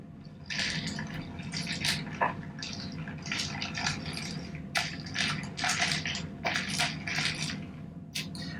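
A bar spoon stirs a mojito with ice and Sprite in a glass, the cubes clinking and crunching in a steady, close swirling rhythm with no talking.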